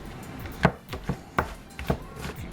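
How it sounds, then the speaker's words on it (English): A kitchen knife chops through frozen chicken on a cutting board for egg rolls, making sharp, irregular thuds, about six close strikes in under three seconds. "Keep chopping this up."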